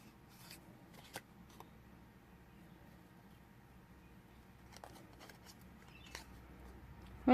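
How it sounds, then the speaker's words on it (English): Small scissors fussy cutting around a stamped seaweed image on paper, with sparse, quiet snips spaced out over a low, mostly still background. "Then I'll just fussy cut it out."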